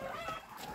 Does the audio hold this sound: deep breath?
no